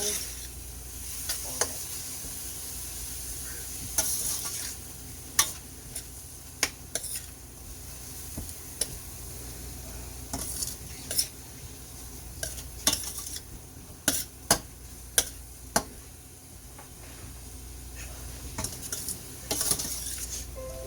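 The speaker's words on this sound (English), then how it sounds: "Just going to mix all this in." Ingredients for a cowboy steak sandwich sizzle steadily in a pan while a utensil stirs and scrapes, with scattered sharp clinks against the metal over a soft frying hiss.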